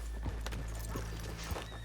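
Horses' hooves clip-clopping in Red Dead Redemption 2 in rainy weather, a few soft, spaced hoof falls over a low steady rumble of rain, quiet and somewhat distant.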